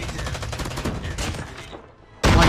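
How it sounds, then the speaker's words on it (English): Long-range SMRS launcher fire in the mobile shooter COD Mobile, a continuous stretch of dense, rumbling gunfire and blasts that dips briefly before a sudden loud burst at the end. "My guy is just doing long-distance SMRS shots"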